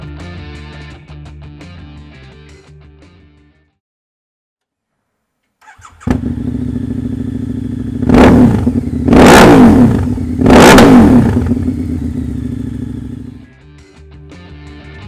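A 2011 Harley-Davidson V-Rod Muscle with an upgraded Vance & Hines exhaust idles, falls silent, then fires up loudly with three sharp throttle revs before settling back to a deep rumbling idle.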